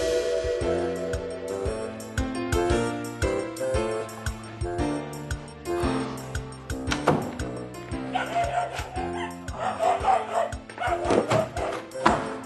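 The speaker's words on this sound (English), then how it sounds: "Will you please be quiet? Stop barking!" A dog barks repeatedly over busy music with strong rhythmic beats, the barks sharp and fairly close.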